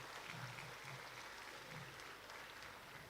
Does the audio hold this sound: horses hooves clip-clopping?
no